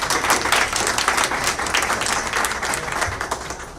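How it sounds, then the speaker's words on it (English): Audience applause after a seminar panel on stress and anxiety management, a steady wash of many hands clapping throughout, fairly close and even in level with no pauses. "let's again give a round of applause"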